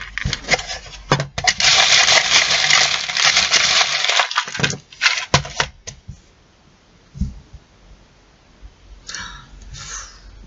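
Small charms tossed and shuffled for a tarot-style reading make a dense, close rattling clatter for several seconds, then scattered light clicks and taps trail off into quiet.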